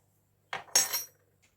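Two quick clinks of a utensil against a bowl while mixing chopped ginger with other ingredients, a short scrape followed by a brighter ringing knock, close and fairly quiet in an otherwise silent room.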